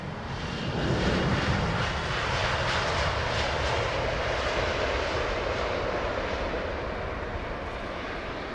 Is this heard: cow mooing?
no